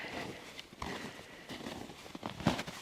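Footsteps crunching on icy snow in Antarctica, a few irregular close steps with sharp gritty crunches, quiet overall.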